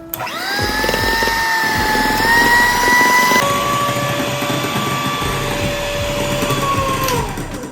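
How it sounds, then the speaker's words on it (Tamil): An electric beater blends plum cake batter with added brown sugar, a loud steady motor whine held for several seconds, shifting pitch midway as the beaters work through the mixture, close and alone without talk. "இப்போ சுகர் சேர்த்ததுக்கப்புறமா இன்னொரு தடவை நல்லா பிளெண்ட் பண்ணிக்கலாம்"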